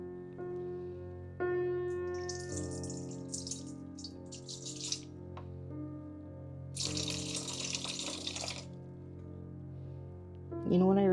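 Distilled water pours for homemade soap in two steady splashing runs, the second louder and longer, over a continuous tonal background that sounds like music.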